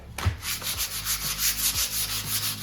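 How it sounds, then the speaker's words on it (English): Old pallet wood for a door threshold is sanded by hand, giving a close, rhythmic rasp of back-and-forth strokes, about ten in quick succession, with no voices. "Okay, let's sand it."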